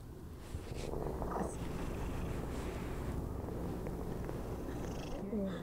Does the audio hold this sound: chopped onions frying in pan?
no